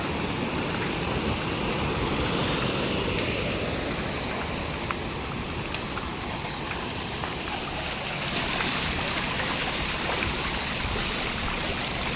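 Floodwater pours over a broken village road in Gurdaspur district, Punjab, after heavy flooding. It makes a loud, steady rushing roar close by that continues without a break and drowns out everything else.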